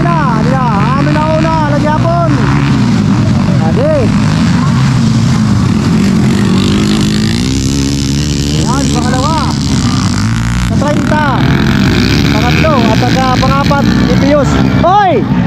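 Motorcycle engines roar loudly and continuously through a beginner-category flat race in Dulag, Leyte, revs rising and falling as bikes pass close, with an excited announcer talking over them.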